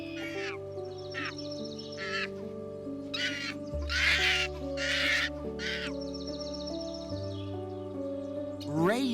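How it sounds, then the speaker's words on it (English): A raven gives a series of harsh, croaking caws, close and fairly loud, coming in uneven bursts over a steady musical background. "It's a raven."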